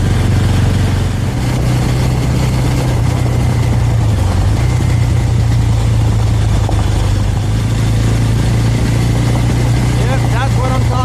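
A motorcycle touring the Banggai Islands in Sulawesi, Indonesia, its engine holding a loud, steady drone close to the microphone throughout, with wind rush around it and a slight dip in pitch partway through.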